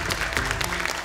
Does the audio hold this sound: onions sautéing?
no